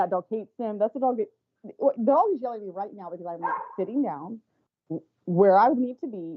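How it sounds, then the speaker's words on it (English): An indoor dog that dislikes one person yelps and barks in high, whiny bursts, close and insistent, with a person speaking briefly among the barks. "that dog you hear barking is the dog that hates him"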